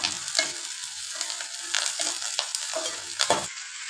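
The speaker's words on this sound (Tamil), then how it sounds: "வெங்காயம் கொஞ்சம் வதங்கினதும் கருவேப்பிலை சேர்த்து வதக்கலாம்" Chopped onion, green chilli and curry leaves sizzle in a pan, a continuous frying hiss broken by repeated scraping strokes of a spoon stirring, close and without speech.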